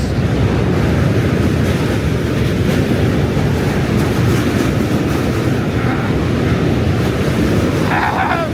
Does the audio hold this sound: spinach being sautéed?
no